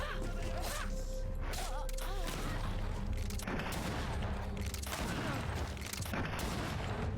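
Guns fire in a string of sharp, cracking bursts during a fight in the video game GreedFall, scattered across several seconds amid other clashing battle noise and voices.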